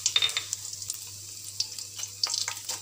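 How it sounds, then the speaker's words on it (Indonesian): Spice paste and curry leaves sauté in hot oil, a bright crackling sizzle with scattered pops and spits, close and steady, with no talk over it. "Minyak dah panas dah. Okey kawan-kawan, sekarang kita menumis ah."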